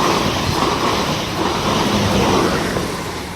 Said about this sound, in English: Now passing through is the 1108 South Western Railway service to Poole